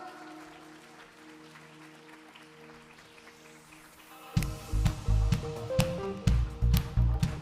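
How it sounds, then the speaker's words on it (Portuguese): Inside a church, a congregation breaks into loud, rhythmic applause and clapping partway through, after a quieter stretch of sustained musical tones; the clapping pulses in strong beats over the music. "Vamos aplaudir a Ele novamente,"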